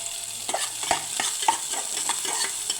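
Onion pieces and two green chillies fry in a little oil with cloves, cardamom and cinnamon for an egg potato masala curry, giving a loud, steady sizzle under repeated stirring scrapes.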